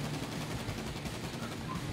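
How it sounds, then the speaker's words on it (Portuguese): Rapid gunfire bursts crackle in GTA V Online, dense and continuous over a short stretch. "Tô dando um tiro aqui."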